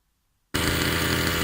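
A ported Rovan Baja 45cc RC car engine suddenly bursts to life after silence and revs hard, a loud, raspy, sustained two-stroke buzz right up close.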